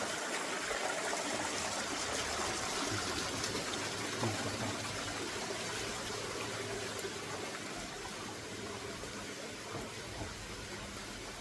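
Water pours down a waterfall feature at a Thai temple, a constant loud rushing gush with no pauses or talking.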